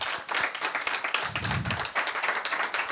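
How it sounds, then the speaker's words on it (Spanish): Audience applause for José at a book launch presentation, a steady patter of many hands clapping at moderate volume throughout, with a brief low thump near the middle. "Un aplauso, por favor, para José."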